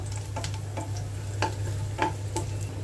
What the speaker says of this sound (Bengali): পেঁয়াজের সাথে একটু ভাজবো